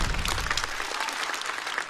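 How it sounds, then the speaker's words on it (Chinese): Studio audience at a stand-up comedy show claps for a comedian, a dense, even burst of applause filling the room at close range for a couple of seconds. "来，再次掌声送给小雪。"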